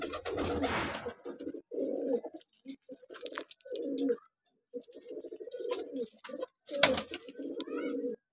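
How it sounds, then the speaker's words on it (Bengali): Pigeons nesting with eggs and chicks coo close by in repeated short, throaty bursts separated by brief pauses, alongside soft rustling and flutters. "এইগুলা আবার নিচেও পাখি আছে, আপনাদেরকে দেখাচ্ছি।"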